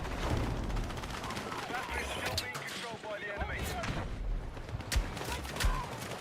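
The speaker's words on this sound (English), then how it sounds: "Okay, so it's pretty fast shooting." Rapid shotgun fire in a fast-paced urban warfare video game, a busy stream of overlapping shots and battle noise at moderate level, with a player talking over it.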